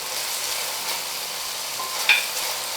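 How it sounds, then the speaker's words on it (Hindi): Chopped onions and ginger garlic paste fry in hot oil in a pan: a loud, steady, close hiss of sizzling, with a brief stir or clink near the end. "इसे अच्छे से भून लेना है।"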